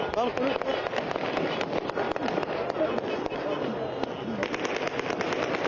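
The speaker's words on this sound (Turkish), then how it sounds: "Ancak bugün tüm kentlerden kutlama nedeniyle silah sesleri yükseliyor." Rapid bursts of celebratory gunfire crackle continuously over a busy crowd in Damascus, Syria, with voices mixed into the dense, steady din.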